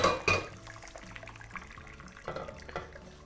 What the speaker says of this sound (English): we're draining it through a colander into a pot